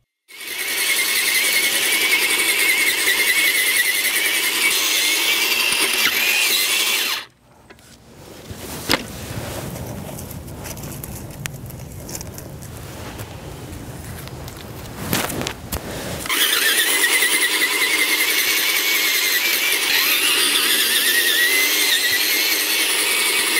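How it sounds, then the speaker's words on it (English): A RYOBI 40-volt cultivator churns garden soil into clay, its loud whining motor squeal running steadily for several seconds, dropping out briefly to rumbling handling noise and knocks, then revving back up at full strength. "I was using the RYOBI 40-volt cultivator"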